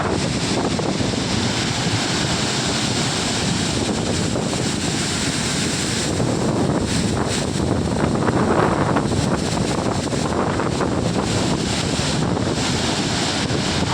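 The long Chittar dam waterfall in Tenkasi roars as a broad, continuous rush of falling water, loud and close, with gusts of wind buffeting the microphone partway through and no voices.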